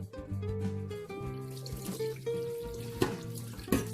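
Tap water runs into a sink while fish is washed by hand, a steady stream splashing with occasional louder knocks and handling sounds.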